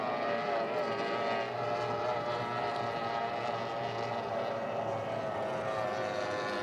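A Formula One racing powerboat engine roars in a steady, high-pitched drone at a South African championship race on Witbank Dam, sustained and loud from start to finish with no talking.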